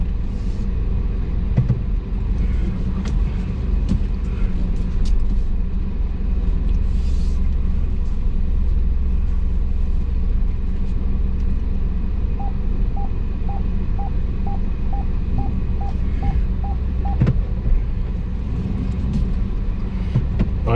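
A car drives through Sofia's narrow city-centre streets, its interior filled with a steady low engine and road rumble, and a short series of regular electronic beeps sounds partway through.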